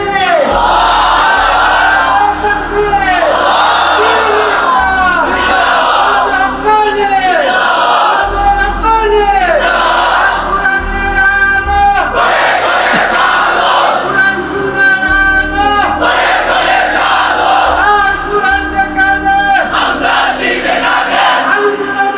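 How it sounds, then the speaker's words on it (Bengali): A large crowd at a Ramadan mahfil, a religious gathering, shouts slogans and takbir chants in loud, sustained unison, with repeated surging calls filling the whole stretch without a break. "তোমরাই স্লোগান দাও, তোমরাই তাকবীর বলো"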